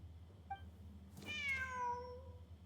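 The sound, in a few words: cat meowing in video game Genshin Impact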